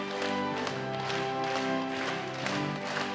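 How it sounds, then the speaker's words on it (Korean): Congregation clapping during a Korean church prayer meeting, a steady rhythmic wash of many hands over sustained organ or keyboard music, fairly loud and continuous throughout. "하나님 앞에 다시 한번 영광의 박수 올려드리겠습니다"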